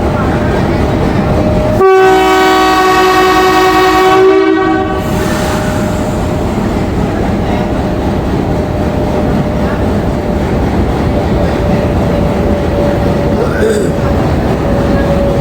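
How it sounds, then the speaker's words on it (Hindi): A Pakistani train rumbles past close by, its loud horn blaring for a few seconds early on, followed by steady roaring wheel and engine noise. "safari train"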